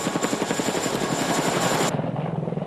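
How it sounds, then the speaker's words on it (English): A CH-47 Chinook military heavy-lift helicopter flies close by, its twin rotors producing a loud, rapid, steady thudding chop with an engine whine, alone without voices. "The CH-47 Chinook provides heavy lift capability and can even lift vehicles"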